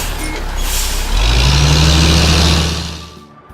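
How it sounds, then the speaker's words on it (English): A cartoon flatbed truck drives past, its engine rumbling loud and close as it builds and then fades away, with a hissing air-brake-like release along the way. "While the flatbed truck brings the materials from far, far away to help us build everything we need to."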